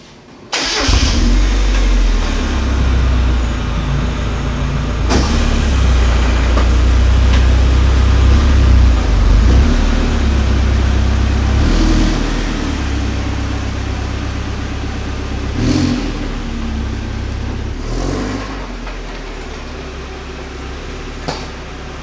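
A Mazda Miata drives after a coilover height adjustment, its engine droning steadily with road rumble inside the cabin and a few sharp thumps and knocks as the car moves over bumps.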